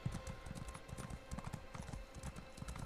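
Steady clip-clop of horse hooves in a video game, a brisk, even rhythm of close hoofbeats continuing throughout over a faint ambient background.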